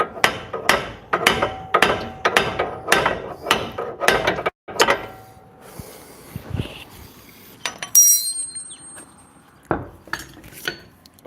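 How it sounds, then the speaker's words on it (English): Hammer striking a ball joint on a 2013 Kia Optima suspension during a control arm repair, a rapid series of sharp metallic clangs, then scattered taps and clinks after a short pause, close and loud. "Can try putting that and hammer the actual finger of a ball joint from the top"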